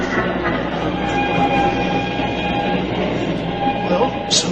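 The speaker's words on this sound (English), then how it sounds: "We've caught the train." A train rolling on its rails makes a steady, continuous rumble with a faint hum throughout. It stays at an even loudness, and there is no clear voice over it.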